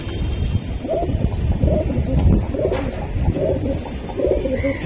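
Green-necked Giribaz pigeons cooing in a repeated, low, throaty rhythm, fairly close and steady, with other birds and a faint background hum.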